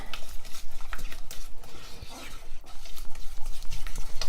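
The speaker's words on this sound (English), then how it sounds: "Give this a nice stir." Thick s'mores brownie batter stirred briskly in a bowl, a rapid rhythmic scraping and sloshing throughout, close and loud with no talking.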